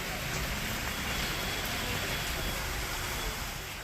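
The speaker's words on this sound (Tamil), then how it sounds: "வேலூர் மாவட்டத்தின் பல்வேறு பகுதிகளில் பரவலாக மழை பெய்தது." Broad, steady rain falls across the Vellore district area with a dense, even hiss, heard alone at moderate loudness.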